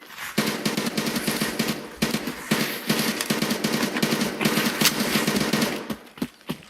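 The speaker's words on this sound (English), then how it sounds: "Got another PMC shooting at a wall here." Sustained automatic gunfire from a PMC shooting at a wall in a video game, a loud, dense, continuous rattle with brief gaps and a trailing stutter at the end.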